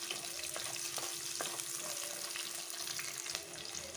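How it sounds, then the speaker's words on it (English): Horse gram masala ingredients sizzle and fry steadily in a pan, a continuous close crackle with a few soft stirring knocks and no talking. "we'll just fry this a little bit till the raw smell goes"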